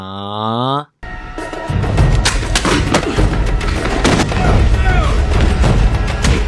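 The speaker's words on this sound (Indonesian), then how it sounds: "ternyata tembakan tadi tak menewaskan Jennifer." A short musical tone cuts off, then loud gunshots and heavy booms pound continuously, like an intense action scene from a film.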